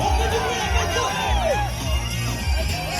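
Stadium crowd at a Ligue 1 football match between Stade Rennais and Lyon cheers and whistles in a continuous roar, with a stadium announcer's amplified voice ringing over the noise.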